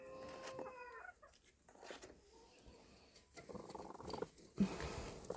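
A broody hen, around five years old, being set on eggs: a few soft, low clucks and muffled rustling nearby, fairly quiet, with light scratching and movement in between.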